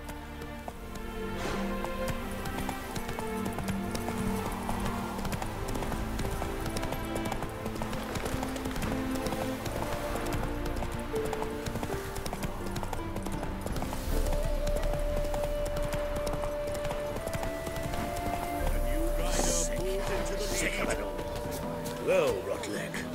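A horse's hooves clip-clop steadily at a gallop in The Witcher 3 game. Music plays throughout and a voice speaks over the hoofbeats.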